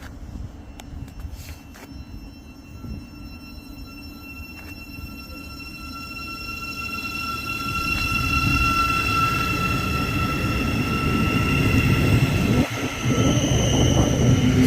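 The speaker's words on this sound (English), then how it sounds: "And there's another two-tone down there from an LNER Zoomer." An LNER Zoomer train passes at Biggleswade on the East Coast Main Line, starting with distant two-tone horn blasts and then swelling into a loud, steady roar of wheels and motors as the train draws near and rushes by.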